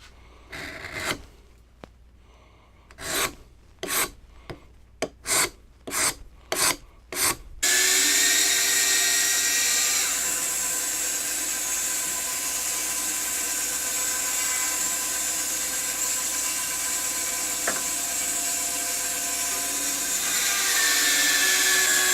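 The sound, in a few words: scraping excess wax off a wooden baby rattle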